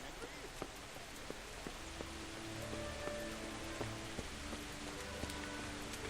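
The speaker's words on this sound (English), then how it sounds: "Seems it always rains when we're about to try archery." Rain falls steadily in the medieval game Kingdom Come: Deliverance, a soft, even hiss with scattered faint drop ticks and a quiet tonal hum beneath.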